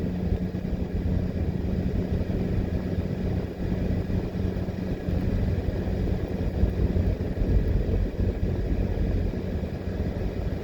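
A car driving along a road out of Old Harbour, Jamaica, heard from inside as a steady low engine and road rumble that holds constant throughout with no talking.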